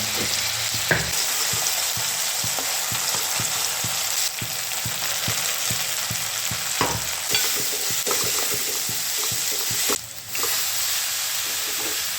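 Tomatoes fry with salt in a pan: a constant loud sizzle with steady rhythmic scraping as a spatula stirs, and a brief dip near the end.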